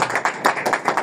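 A church congregation claps along during a Sunday sermon, producing a quick run of distinct, rhythmic hand claps, fairly close and moderately loud, with about eight beats over one second and no speech.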